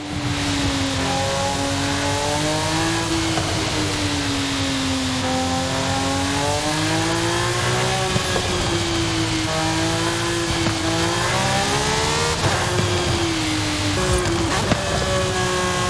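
A Lamborghini Sian's engine in Forza Horizon 5 holds a loud, continuous high-pitched drone, its pitch swinging up and down as the car revs and shifts, with faint tire noise beneath and no speech.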